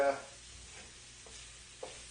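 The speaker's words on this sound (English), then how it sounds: "frying process is coming along pretty good here." Teriyaki rice with diced ham, carrots and vegetables sizzles quietly in a pan during stir frying, with a faint steady hiss and a few soft stirring scrapes.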